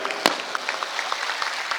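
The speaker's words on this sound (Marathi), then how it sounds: "एकदा जोरदार टाळ्या दादांसाठी आपण देऊया" Applause from a crowd at a Maratha reservation rally for Manoj Jarange Patil, with scattered, fairly faint claps and one sharp nearby clap near the start.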